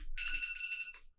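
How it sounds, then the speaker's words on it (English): A phone alarm goes off with a bright electronic ringtone, one sustained, steady tone that lasts under a second before cutting off, close and fairly loud with no talking over it. "that's my alarm."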